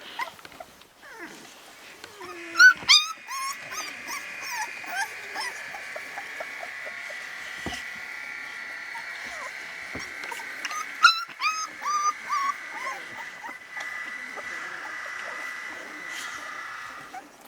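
An Alapaha Bulldog x American Bulldog mix and her puppies whimper and yelp in short, high, repeated cries, while a steady mechanical drone from shop work runs underneath and a few louder yips break through.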